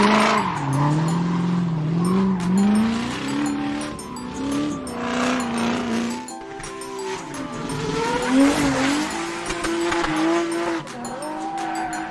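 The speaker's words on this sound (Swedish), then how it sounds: "Drifting bil." A drifting car with long, loud tire squeals that rise and fall in pitch, alongside engine roar, continuous and close.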